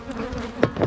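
Honey bees buzz loudly around an opened hive in spring, with a dense, close droning hum and individual bees flying past the microphone.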